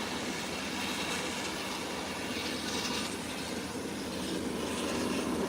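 An Inter-Caribbean Embraer 120 turboprop taxis toward the runway at an airport. Its engine makes a steady, moderately distant broadband roar and whine that holds level throughout, with no speech.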